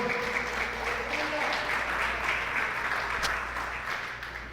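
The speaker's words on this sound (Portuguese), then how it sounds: "Você pode aplaudir Jesus, irmão?" A church congregation claps for Jesus in a broad, steady round of applause that tapers slightly near the end, with a low hum underneath and some voices mixed into the crowd noise.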